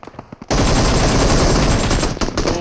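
Rapid automatic gunfire in a shooter video game erupts after a brief quieter moment, a loud continuous burst of close shots.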